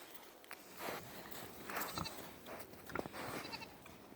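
Goats bleating faintly in a farm pen during December, a few wavering calls rising over a steady low background hum.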